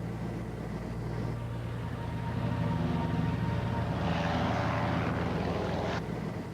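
A light aircraft flying touch-and-go circuits, practising takeoffs and landings, gives a steady propeller-engine drone that swells slightly louder midway, continuous and alone without voices.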